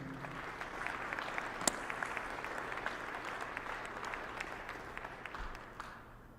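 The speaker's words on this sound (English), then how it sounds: "Please give them a round of applause." A large audience applauds steadily at a county State of the County event, dense broadband clapping holding for several seconds at moderate distance before tapering slightly at the end.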